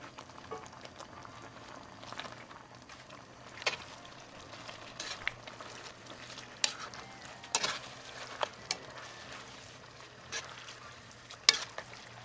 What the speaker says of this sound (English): I'm going to be adding spaghetti that I've already cooked for us, and I'm just going to mix it in